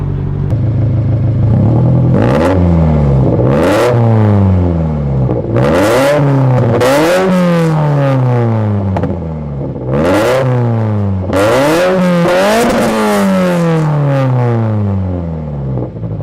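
A turbocharged Scion FR-S with no catalytic converters and a 3-inch exhaust revs hard again and again, each loud, close blip climbing sharply then falling away with turbo whoosh, roughly eight revs in steady succession with no talking.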